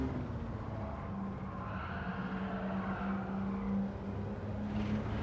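A racing car's engine in a time trial video game drones steadily with a sustained tonal hum, mixed with skidding tyre noise and continuous road roar, no voices over it.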